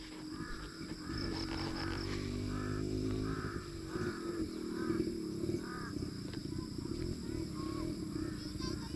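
Several crows caw repeatedly in short harsh bursts over a constant engine-like drone, the calls fairly close and rhythmic.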